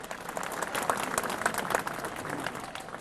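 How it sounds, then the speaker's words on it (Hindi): Audience applause at a literary festival stage event in Lucknow: a short, steady burst of many hands clapping, moderately loud and dense, with a faint voice underneath. "एक जोरदार तालियां पहले हो जाएं"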